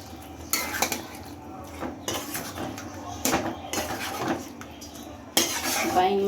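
Baim fish goes into a pan of cooked-down spices and tomato paste for a bhuna, with repeated metal clanks and scrapes of a utensil against the pan, sharp close hits over a faint background hiss.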